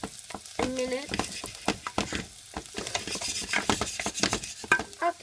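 Nuts and onion fry in a pan, a close crackling sizzle broken by repeated scrapes and clicks of a utensil stirring against the metal.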